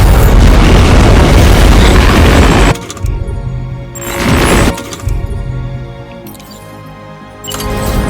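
The Magellan's main cannon in the video game Death Stranding 2 fires a loud, close, sustained roaring blast that cuts off abruptly, followed by two shorter rumbling bursts of booming after-effect.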